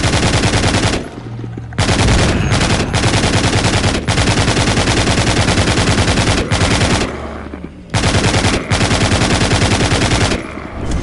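Gatling gun firing in the zombie video game The Walking Zombie 2: long, dense bursts of rapid automatic fire, very loud, broken by brief gaps between sustained volleys.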